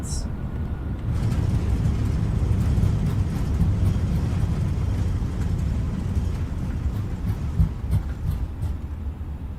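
Sustained low, broad roar of an Airbus A320 (FlyByWire A32NX) in reverse thrust after landing at Myrtle Beach in Microsoft Flight Simulator, building after a second and holding steady and loud throughout, with no talk over it.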